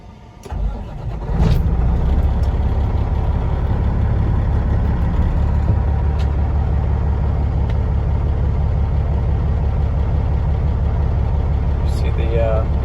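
A Peterbilt 389 truck engine, 2016 triaxle glider daycab, cranks briefly and catches, then settles into a loud, steady, deep idle rumble that continues without pause.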